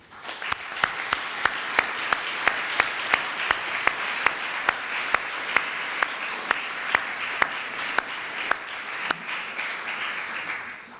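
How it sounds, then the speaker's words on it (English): A large hall audience applauds graduating students at a 2019 graduation ceremony, a steady dense wash of clapping with sharper individual claps standing out, sustained throughout at moderate loudness. "a warm applause for you"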